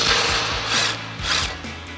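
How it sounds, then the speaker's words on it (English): A 19mm socket ratchet clicks rapidly and steadily, close up and loud, removing sway bar bracket bolts on a 2024-2025 Toyota Tacoma during a suspension lift install. "So what we're going to do is grab our 19mm socket and remove the sway bar bracket."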